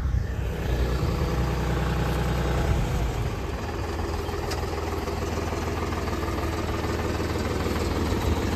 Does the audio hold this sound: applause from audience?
no